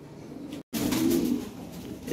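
Lahore pigeons in a breeding pair give a low, soft cooing at close range; a brief murmur is broken by a sharp cut, then a steadier coo follows, with no talk.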